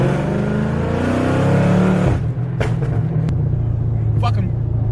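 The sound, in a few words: Dodge SRT car accelerating hard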